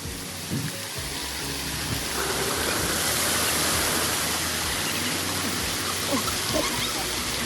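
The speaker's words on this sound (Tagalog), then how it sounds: "Very nice waterfall." A waterfall at African Lion Safari in Ontario, Canada gives a steady, broad rushing roar throughout, close and fairly loud, with faint voices of people nearby underneath.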